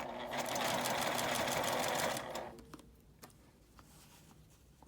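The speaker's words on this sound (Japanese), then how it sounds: "1センチ手前ぐらいで一度ミシンを止めて角度を変えてまた端まで縫います" A sewing machine stitches fabric for a cutlery case, running steadily and loudly for about two seconds before stopping, followed by quieter handling clicks.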